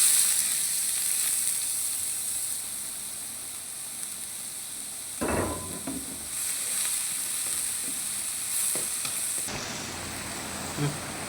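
Four sliced onions frying in oil with a piece of cinnamon for butter chicken, a constant close sizzle with a louder burst as they hit the pan and occasional stirring scrapes.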